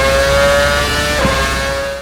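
Formula RSS 2013 Formula One car engine in the video game Assetto Corsa, a steady high-pitched whine held at constant pitch with a brief dip and recovery midway, loud and alone.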